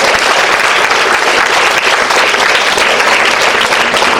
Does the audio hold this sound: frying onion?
no